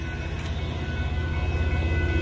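A southbound Union Pacific empty gravel train passes at a road crossing in Austin, Texas, with a continuous, loud low rumble and rolling rail noise that holds steady throughout.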